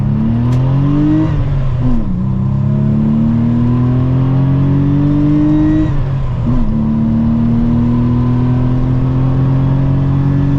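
An air-cooled Porsche engine drones loudly and steadily as it accelerates, pitch climbing slowly through long gear pulls with brief dips at each shift.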